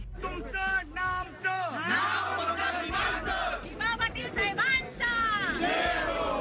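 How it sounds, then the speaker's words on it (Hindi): A crowd of protesters marching toward CIDCO in Navi Mumbai raise a loud, continuous roar of shouting and slogan-chanting voices, with many overlapping cries that swell and dip throughout. "आंदोलनकारियों की भीड़ सिडको की तरफ बढ़ रही थी।"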